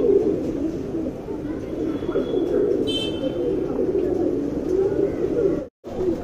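A male and female Kathang pigeon, a pair of tournament-line birds, coo together in a steady, close, low murmuring stream, with a brief higher chirp partway through and a short gap near the end.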